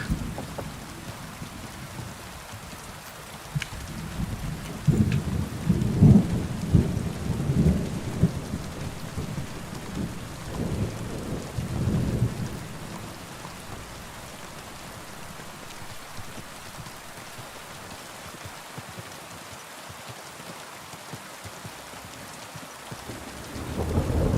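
Thunderstorm with rain in a medieval Bohemia exploration video game: a long rolling thunder rumble swells and fades over steady pattering rain, with another low rumble building at the end.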